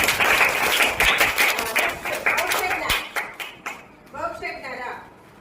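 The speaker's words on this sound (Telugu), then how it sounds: "క్లాప్స్ ఇవ్వండి." Children clap together in a classroom, a dense burst of applause lasting several seconds that thins out toward the end, with voices speaking over it.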